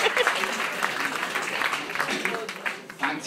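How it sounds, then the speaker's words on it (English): An audience at a live comedy stand-up show claps for a few seconds in a loud, dense burst. A little voice is mixed into the applause. "Thanks for the clap."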